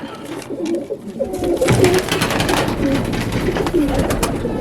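Pigeons cooing and calling together in a loft, a steady close chorus of overlapping low coos and wing-shuffling that fills the whole stretch without pause.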